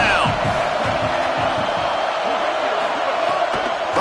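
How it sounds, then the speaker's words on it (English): A stadium crowd at the Iron Bowl, Alabama versus Auburn, roars steadily for the defense on third down, a loud sustained wall of noise with a commentator talking over it. "Decibels rising as the crowd gets behind this defense on third down."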